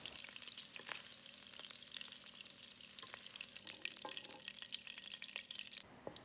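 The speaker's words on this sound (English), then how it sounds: "add the shrimp in to cook it through" Shrimp frying in a pan for pad thai, a steady broadband sizzle with occasional sharp crackles and pops, close and continuous, with no voices.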